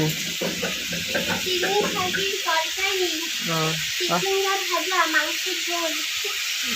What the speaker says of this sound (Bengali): তাদের মাছ টাছ ভাজা হচ্ছে